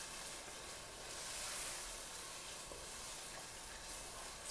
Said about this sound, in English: we'll just let this simmer as the noodles are cooking